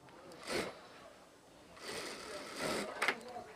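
A sewing machine stitches a folded fabric hem on a dhoti pajama in a few short whirring bursts separated by pauses, close and fairly quiet.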